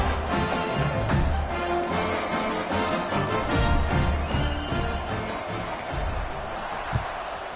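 A football stadium crowd cheers before kickoff at a BC vs Cal game, a dense continuous roar of many voices with scattered claps and shouts, steady and loud throughout.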